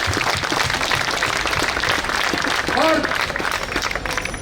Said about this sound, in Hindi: आप ताली बजा के उनका स्वागत करें।